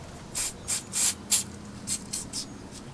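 Cleaner misted from a spray bottle onto a stained boat seat: about eight short, close hissing squirts in an uneven rhythm, with no talking.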